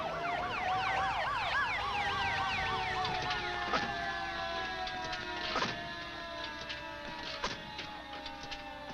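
An ambulance siren in Houston wails in a rapid up-and-down pattern, then settles into a steadier tone, heard over a continuous background hum with occasional clicks.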